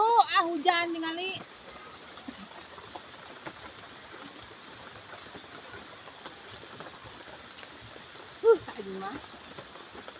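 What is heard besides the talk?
rain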